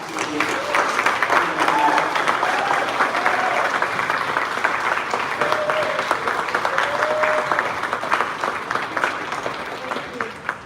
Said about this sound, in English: let's give Venerable a clap